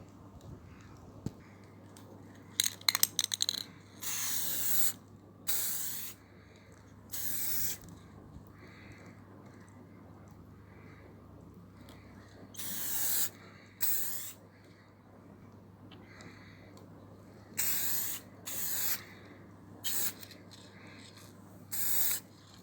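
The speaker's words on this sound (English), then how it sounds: "so I'm going to spray it now," Rust-Oleum satin spray paint hisses from an aerosol can onto an O gauge J15 model locomotive, in short bursts of a second or two scattered across the stretch, with quiet pauses and faint background noise between.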